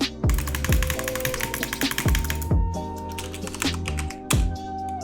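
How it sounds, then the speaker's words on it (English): Rapid mouse spam-clicking during a mid-air boat clutch in Minecraft makes a dense, steady patter of close clicks. Game sounds play underneath, with several low dropping thuds. "You can spam click, which can work, which I will show you right now"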